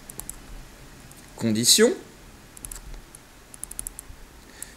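Quick, light keystrokes on a computer keyboard tick in short bursts close to the microphone, pausing while someone briefly speaks and then resuming as scattered taps.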